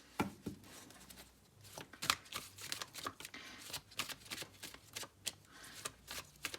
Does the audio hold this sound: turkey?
no